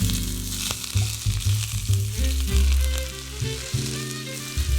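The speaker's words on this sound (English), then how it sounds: "They're sizzling up and we're ready to pour it." Pepper flakes crackling and sizzling steadily in hot oil, close up, with some low musical tones underneath and no talking.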